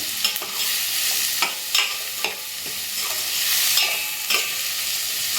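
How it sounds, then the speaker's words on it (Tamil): Garam masala sautéing in a pan for vendakkai (okra) egg rice, a steady close sizzle of frying broken by several sharp scrapes and clinks of a spoon stirring, with no talking. "இப்போது கரம் மசாலாவை அந்த பச்சை வாசனை வர்ற வரைக்கும் கரம் மசாலா போகிற வரைக்கும் வதக்கணும்"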